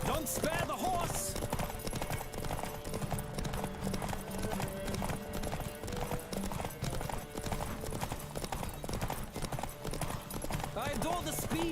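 Galloping horse hooves in The Witcher 3: Wild Hunt, a fast steady clip-clop rhythm running throughout alongside game music and effects, with a voice speaking over it.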